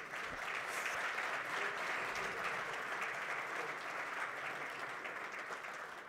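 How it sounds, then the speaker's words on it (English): Conference audience at the Namibia National Green Hydrogen Conference breaks into sustained applause, a dense even wash of many hands clapping throughout, moderately distant with no talking. "deserves another bigger round of applause"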